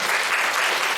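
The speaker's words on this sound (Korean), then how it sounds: "입대한 사람에게 박수 올리 격려하겠습니다." A church congregation claps together during a Sunday worship service in Daejeon, giving a steady, dense burst of applause throughout with no voices over it.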